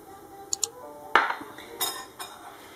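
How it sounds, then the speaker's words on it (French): A spoon clinks against a bowl while sardine stuffing with chermoula, salt, pepper and olive oil is mixed: a few light, close metallic taps and scrapes over a quiet room hum. "Je vais bien mélanger le tout."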